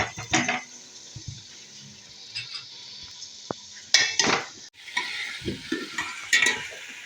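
Fried potatoes and beans being stirred in a wok, with repeated metallic scrapes and clinks of a utensil against the pan over a soft sizzle, loud and close, no talking.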